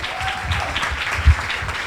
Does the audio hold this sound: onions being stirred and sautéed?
no